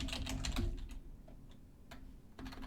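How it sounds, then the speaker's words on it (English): Someone types on a computer keyboard while coding a small JavaScript number-guessing game, with quick irregular clusters of close keystrokes, pauses between bursts, and a soft low hum underneath. "Now I can start typing"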